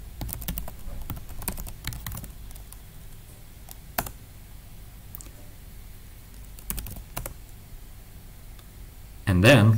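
Steady typing on a computer keyboard while a command is entered to connect to a remote Linux server, with rapid clustered key clicks, short pauses and a heavier burst at the end.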